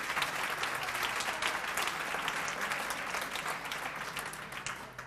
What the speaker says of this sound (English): Can we give a big round of applause because we are progressives?